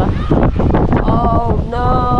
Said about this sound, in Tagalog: napakalakas ang hangin eh.